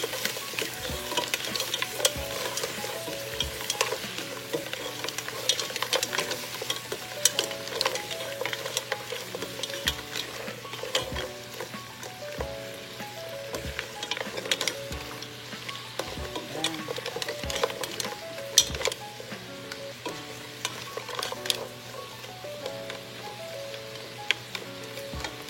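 Mussels stirred in a frying pan with fish sauce and black pepper, a constant close sizzle with regular dull knocks and scrapes from the spoon against the pan, no talking.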